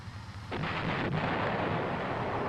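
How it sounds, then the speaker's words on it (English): The main gun of an M551 armored reconnaissance airborne assault vehicle fires once after a quieter lead-in, a heavy, close blast followed by a sustained rumbling roar, with a second sharp crack soon after. "After the recoil, the gunner observes the effect of his firing in the telescope."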